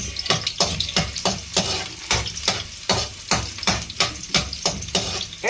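Onions sautéing in a pan for Filipino vegetable cooking, a steady sizzle with a regular rhythm of stirring scrapes about twice a second, close and clear with no talk.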